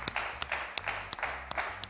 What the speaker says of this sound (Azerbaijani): Gürültülü bir alqışlar gəlsin.